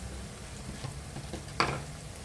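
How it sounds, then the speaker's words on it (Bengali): Chopped garlic and whole cumin seeds go into hot oil, a quiet, low sizzle with a few soft crackles and one brief sharper hiss near the end, no talking. "এখন আমি রসুন কুচিগুলো দিয়ে দিচ্ছি, সাথে আস্ত জিরাগুলো রেখেছিলাম ওগুলো আমি দিয়ে দিচ্ছি।"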